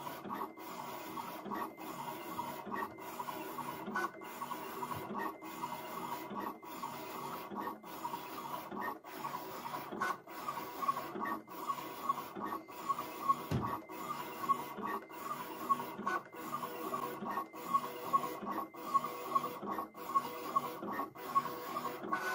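A Siser Juliet cutting machine cuts printed vinyl with a steady mechanical whir, its carriage stuttering in quick regular pulses throughout, loud and close with no voices.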